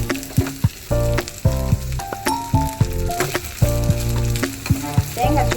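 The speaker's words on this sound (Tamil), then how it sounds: "தேங்காய் சும்மா லைட்டாக வதங்கினா போதும்." Grated coconut sautéing in a pan, a loud close sizzle broken by repeated clattering strokes of a spatula scraping and stirring.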